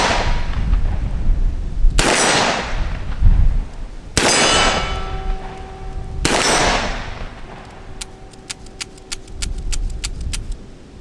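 A Ruger Security Six revolver fires several loud, booming shots a couple of seconds apart outdoors, followed by a clattering run of metallic pings and clinks.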